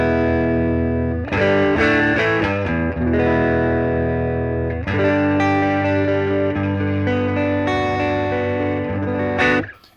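Electric guitar played through a Safari Pedals Twin Panda amp plugin with the bright switch on, sounding loud, distorted and chorused, with ringing strummed chords and phrases filling the whole span before cutting off at the end.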